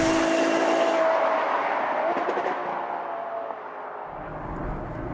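A Ferrari FF's engine roars loudly and steadily as the car drives at speed, with a sustained broadband mechanical drone that eases slightly toward the end, with no voices over it.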